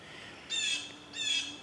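A bird gives two loud, harsh squawks about half a second apart, close and clear against a quiet background.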